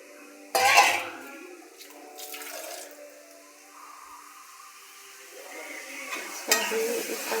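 Curry sautéing in a pan, with a sharp burst of sizzling and stirring scrapes that then settle into a quieter, steady cooking sizzle, followed by another louder flare of frying near the end.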